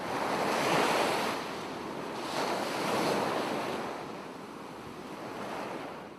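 Sea waves roll and break on a beach shore, a steady broad wash of surf rising and falling in slow swells, with some wind noise buffeting the microphone and no voices.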